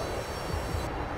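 Steady, dense drone of an aircraft engine in the DCS flight simulator, a T-45 jet during night testing, loud and continuous for a brief moment with no talk.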